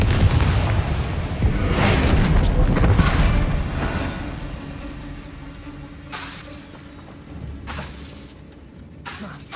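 A Confringo blasting spell going off in Hogwarts Legacy, a loud booming explosion with shattering debris that rumbles for several seconds and fades, followed by a few sharper crackling bursts.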